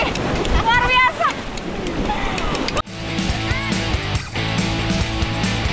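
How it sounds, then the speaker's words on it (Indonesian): Sea waves crash against coastal rocks on a rugged Aceh shore with no beach, surging and pulling back in loud, close bursts over wind buffeting the microphone, with people talking over the surf. "ombak yang datang itu ketabrak batu, balik lagi, ngelempas kita lagi"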